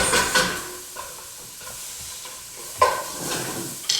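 Onions frying in a pan for a lemongrass pork stir-fry, a soft steady sizzle broken by stirring scrapes and a couple of sharper bursts of hissing, close and fairly quiet.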